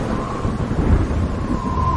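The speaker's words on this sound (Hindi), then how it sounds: "ये तो तेज बारिश शुरू हो गई है" Heavy rain pours steadily in an audio drama scene, a dense, loud wash of downpour noise with low rumbling underneath and no voices.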